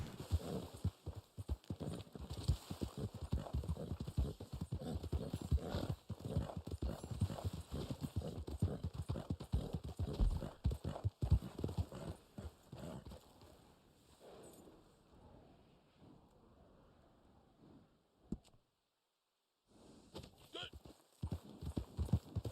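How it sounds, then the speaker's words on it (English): Rapid, rhythmic hoofbeats of a tiring horse galloping in Red Dead Online, steady and close, with a brief lull near the end before the pounding resumes. "My horse is getting really tired really quickly today."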